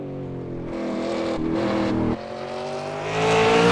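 A V8 Supercar racing engine howls through a corner during qualifying at the Bathurst 1000, steady and loud with a brief lift and pitch change before it builds again under hard throttle.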